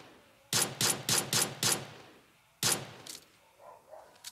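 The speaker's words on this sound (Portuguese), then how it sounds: "deixa eu dar um tiro no carro" Gunfire aimed at a car in the PUBG Mobile video game: five sharp shots in quick, even succession, a pause, then another loud shot and a fainter one trailing off.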